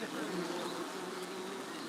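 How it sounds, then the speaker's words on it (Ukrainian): Honeybees from a strong colony hum densely near village beehives, giving a close, continuous drone with no breaks. "Багато бджіл тут. Це сім'я така міцна дуже."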